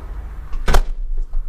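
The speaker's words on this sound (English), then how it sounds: "So we enter the property now through the front door" The front door of a house opens into an entrance hallway with one short, fairly loud clunk midway, close by, against a low steady background hum.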